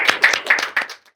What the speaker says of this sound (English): please give it a big applause